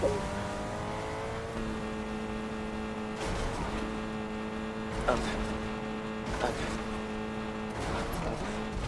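A car in the video game Fortnite drives along with a continuous engine drone whose pitch shifts as it accelerates, punctuated by a few sharp bumps and impacts, under short spoken exclamations.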